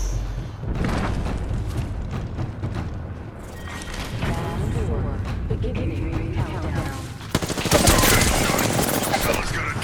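Gunfire and explosive booms fill a battle royale video game match, with dense rattling bursts, a loud swell of shots near the end, and a voice talking intermittently underneath.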